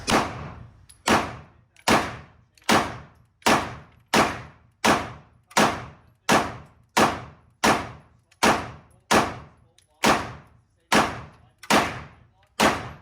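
A Shadow Systems DR920 Elite pistol fires at a shooting range in a steady string of about sixteen sharp, loud shots at a little over one per second, each followed by a short decaying echo.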